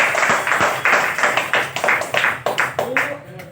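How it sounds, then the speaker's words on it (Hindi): An audience at an RCM seminar claps hard for a speaker. The claps are loud and uneven, with rhythmic bursts that fade out toward the end as a voice starts. "सुमित सर के लिए आप एक बार शानदार जोरदार ताली बजाएं"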